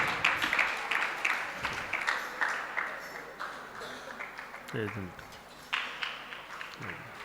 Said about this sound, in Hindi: तालियों के माध्यम से स्वागत करेंगे सभी का।